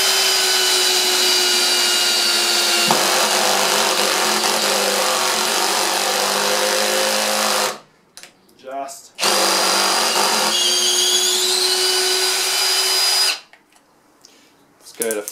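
A ToolPRO 18V hammer drill runs in long, loud bursts of motor whine with a shifting pitch, stopping twice with brief gaps where speech can be heard.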